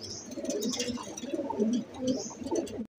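Racing pigeons coo steadily at the loft, a close, continuous run of soft, throaty calls with no talking.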